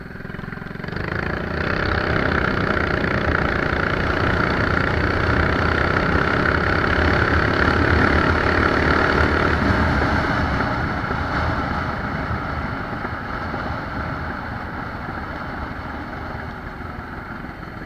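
A blue mini bike's small engine running down a track at speed, a steady droning buzz that holds for most of the run and gradually eases off toward the end.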